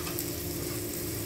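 Garlic frying in a pan for Filipino pansit, a steady, continuous close sizzle with no talking.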